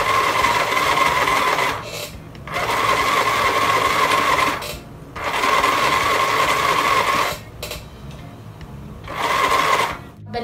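A sewing machine stitches a face mask in loud close bursts of rapid whirring, running for about two seconds at a time with brief pauses between runs.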